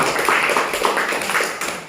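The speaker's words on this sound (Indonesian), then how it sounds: "Kita akan beri aplaus dulu." Brief round of applause from a classroom of students, a dense, steady patter of many hands clapping close by for about two seconds.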